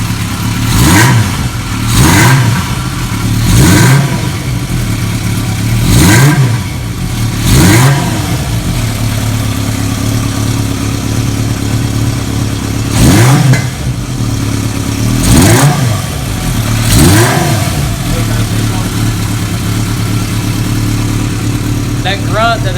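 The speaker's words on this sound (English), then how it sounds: "That grunt that Mac pipe has is cool." 1980 Kawasaki KZ650 motorcycle with a Mac pipe exhaust, engine blipped in a series of sharp revs from a steady idle, each rising and dropping back, loud and close with a gruff tone.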